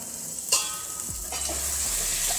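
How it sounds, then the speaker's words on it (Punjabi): Spices and potatoes frying in oil in a pan and being stirred, a steady close sizzle with a scrape of a spoon, no voices. "2 ਮਿੰਟ ਵਾਸਤੇ ਆਪਾਂ ਮਸਾਲੇ ਨੂੰ ਭੁੰਨ ਲਵਾਂਗੇ"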